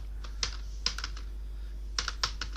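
Light keystrokes tap on a computer keyboard while code is entered in a VBA billing spreadsheet, coming in short irregular clusters against a quiet steady hum.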